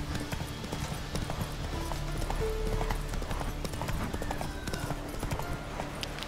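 The horse Roach's hooves in The Witcher 3, a steady rhythmic clip-clop of walking hoofbeats close by, with game ambience underneath.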